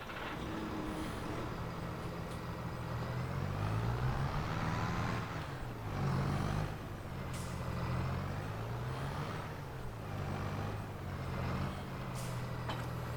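A tractor pulls a plow across an oat field in a farming game, its engine droning steadily and loud throughout with repeated rising and falling revs as it works the ground, no voices.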